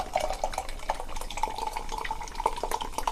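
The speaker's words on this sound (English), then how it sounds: "Pouring this quite aggressively because it doesn't look like there wants to be much of a head on there." Coconut white stout beer is poured fairly aggressively from a can into a glass, a soft, close, steady liquid gurgle with small intermittent glugs and splashes over about three seconds.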